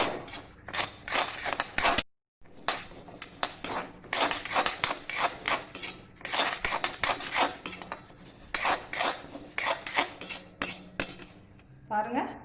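A metal spoon scrapes and clinks repeatedly against a pan while moong dal is roasted and stirred continuously, making rhythmic close-up rattles with a brief pause near the start.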